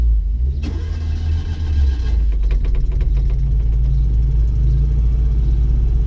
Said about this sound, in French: Donc on va démarrer la Dodoche.